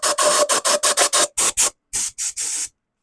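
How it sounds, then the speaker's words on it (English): A bowl gouge scrapes wood on a spinning lathe, working inside the neck of a turned piece: a series of about a dozen short, hissing rasps in quick rhythmic strokes, close and fairly loud, with brief gaps between. "Just doing a little bit of scraping right in the neck right there with the bowl gouge"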